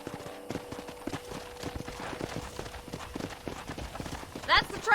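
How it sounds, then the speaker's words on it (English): Horse hooves clip-clop at an easy ride in the Red Dead Redemption western game, a quick rhythmic patter of hoofbeats beneath a voice spoken over it. "Giddy up!"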